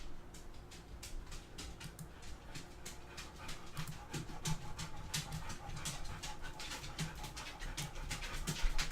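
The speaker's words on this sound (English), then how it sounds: "You're going to hear some heavy breathing in the background. That's my lovely dog and assistant." A dog pants heavily in the background, with quick steady breaths repeating throughout at a moderate, fairly close level.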